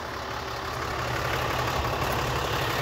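A 2018 Ram 3500 Laramie crew cab with the 6.7 Cummins diesel idling, a steady low rumble heard up close and unchanging for a few seconds, with no voices.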